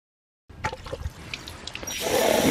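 Water splashes and trickles over a recycled plastic bottle as its outside is quickly rinsed, with a few brief wet taps followed by a steadier running stream near the end.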